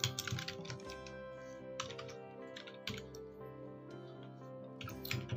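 Quick bursts of keystrokes on a computer keyboard as a reference number is typed into accounting software, close and fairly quiet, with irregular clusters of taps across several seconds and no talk.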